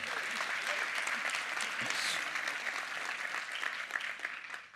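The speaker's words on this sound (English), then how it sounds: "big round of applause, Dan" A keynote audience at a software developer conference gives a round of applause, continuous fairly quiet clapping from many hands that holds steady and thins slightly near the end.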